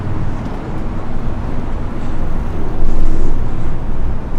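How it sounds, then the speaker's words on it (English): Steady roar of heavy traffic beside the FDR Drive in New York City, Manhattan, a dense continuous rumble that swells louder midway as vehicles pass close by. "we're right at the FDR, so the traffic noise is going to be substantial"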